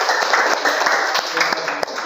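Students in a high school Indonesian-language class clap together at their teacher's call, a dense, steady patter of hands that carries on for a couple of seconds with a voice under it.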